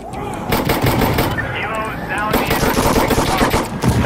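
Rapid automatic gunfire from the video game Insurgency Sandstorm rattles loudly and continuously, mixed with someone speaking excitedly over the shooting.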